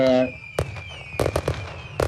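A fireworks sound effect plays during an award ceremony: a run of sharp crackling bangs and pops, several in quick succession, following a brief spoken voice.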